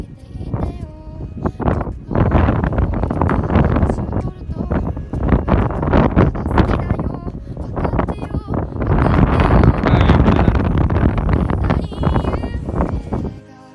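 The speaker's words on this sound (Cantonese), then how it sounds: "嗰日呢風速真係好大嘅" Strong wind buffets the microphone at the Glacier 3000 ski area in the Swiss Alps, a loud, continuous roar of gusts that swells and falls for the whole stretch.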